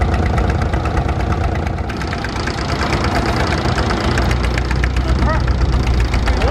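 A Caterpillar D2 crawler tractor pulls a trailer plough at a ploughing match, its engine chugging loud and close with a knocking, rhythmic diesel beat throughout.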